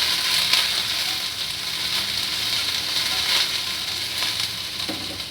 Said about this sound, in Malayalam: പെരിഞ്ചീരകം ഇടുക. പിന്നെ ഇടുക, നന്നായി വഴറ്റാം.